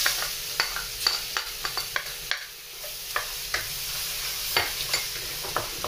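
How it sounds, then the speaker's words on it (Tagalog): Garlic sautéing in a pan for ginisang bagoong alamang: a light sizzle under a quick, regular series of spatula scrapes and taps, close and clear. "So, igisa na po natin ang ating garlic."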